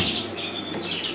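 Small birds chirp and twitter continuously inside a finished backyard aviary, a steady bright chatter of overlapping calls with no voices.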